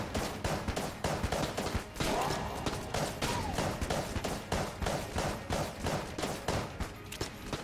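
Rapid bursts of gunfire from the Enter The Gungeon video game: repeated sharp shots in quick clusters with short gaps between them, loud and close, with occasional thuds.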